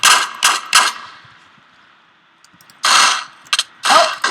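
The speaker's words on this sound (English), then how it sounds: "someone's behind me trying to shoot" Gunshots in a video game gunfight ring out as a quick burst of three sharp, loud reports, followed by a quiet lull and then another cluster of rapid shots.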